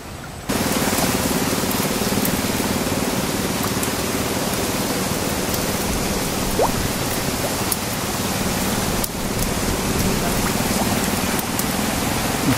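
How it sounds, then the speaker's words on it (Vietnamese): Heavy rain pouring down outdoors, a dense, loud, continuous hiss of drops striking surfaces that starts abruptly and holds steady, with a few sharper drip ticks and no talking. "Đã mưa hồn vía nè cả nhà."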